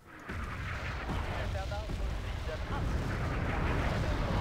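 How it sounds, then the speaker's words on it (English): Rockets and artillery shells pounding a forward base in Wargame: Airland Battle, a dense, continuous rumble of booming impacts and crackling blasts, loud and close, with a voice speaking over it. "Shooting rockets at my fob."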